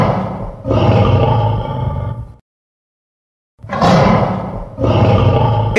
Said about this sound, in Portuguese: Excelente! Um leão.